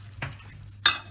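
Cinnamon apple cake filling being mixed, with cinnamon just added: two short scraping, stirring strokes close by, the second louder, over a low steady hum.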